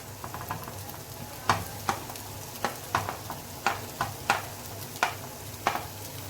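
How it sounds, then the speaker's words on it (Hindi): Zucchini stirred and frying in a pan for pasta, a low sizzle broken by a regular series of sharp scrapes and taps of the spatula against the pan, roughly one every half second, no voices. "इसमें अब मैं ज़ुचीनी को ऐड करूँगी।"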